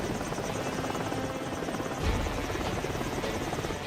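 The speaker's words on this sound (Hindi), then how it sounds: "छोटू लंबू हेलीकॉप्टर लेकर जंगल की तरफ बढ़ते हैं और जंगल में गुफा के पास उसे लैंड करा देते हैं।" A cartoon helicopter flies over a jungle toward a cave to land. Its rotor chops in a loud, steady, rapid rhythm throughout, with a brief heavier thump midway and no voices.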